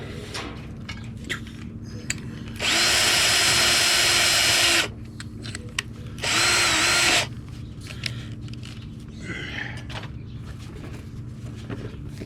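A power drill bores a hole in metal during a car trailer repair, running in two close, loud whirring bursts of about two seconds and one second, with workshop clatter between them and no speech.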